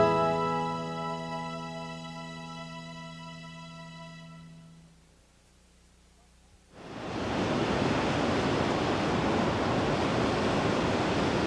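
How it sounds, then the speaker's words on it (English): Pacific Ocean surf washing onto an Oregon shore: after a few seconds of quiet, a loud, steady broadband roar of breaking waves swells in and holds, close and continuous with no voices. "Like clockwork, the Pacific Ocean washes over these Oregon shores."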